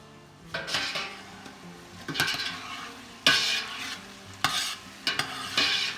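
Peppers softening in a covered pot over medium-high heat for jambalaya, with a steady cooking sizzle broken by five loud, evenly spaced bursts of a utensil scraping and clattering against the pot, and no talking.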